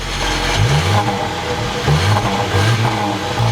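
A Volkswagen Alltrack engine with a blown IS20 turbo revving in repeated rising bursts from idle, loud and close, with a rough, clattering mechanical edge.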